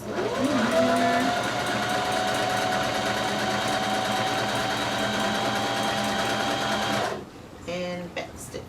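A sewing machine stitches bikini fabric with a steady, close whir for about seven seconds, then stops, leaving brief quiet handling noises.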